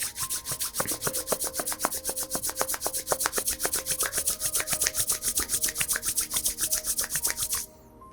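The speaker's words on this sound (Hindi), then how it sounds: "दोनों हाथों को अच्छे से रब कीजिए।" Two hands rub briskly together in a fast, steady back-and-forth rhythm, producing dense rasping swishes, close and fairly loud, for several seconds before stopping abruptly.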